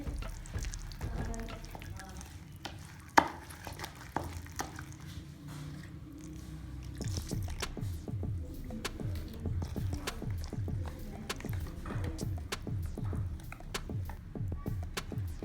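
Thin liquid batter of flour and water for masala paratha is stirred in a bowl, giving soft wet squishing and rhythmic slapping strokes that grow steadier and denser, with a sharp knock early on.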